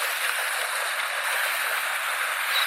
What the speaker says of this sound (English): this part is like the best waterfalls, just this area, in my opinion